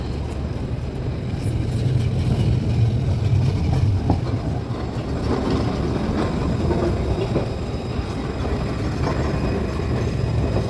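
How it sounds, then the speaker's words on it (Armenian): A city tram in Alsace, France rolls past on a street with a steady low rumble and hum, building slightly in the middle before easing, heard from nearby amid general urban background noise. "բայց այսպիսի տրամվայներ կան։"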